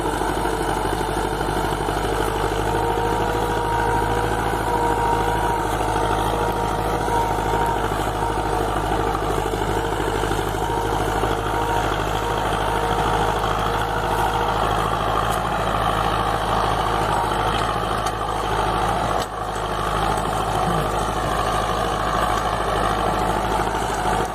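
A small farm tractor engine runs steadily on pasture land, a continuous near, loud rumbling drone with a slight dip toward the end and no one speaking.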